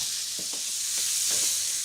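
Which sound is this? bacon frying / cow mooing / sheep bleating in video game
bacon frying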